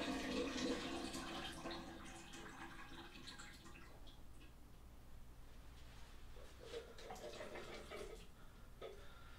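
Liquid drains from two 15-ounce cans of lima beans in a steady, soft splashing and trickling pour close by. It is strongest at the start, then eases to a quieter stream with a few later gurgles, and no one speaks.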